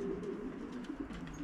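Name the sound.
racing pigeon cooing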